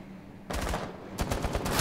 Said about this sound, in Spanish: ¡Madre, que te tira explosiones!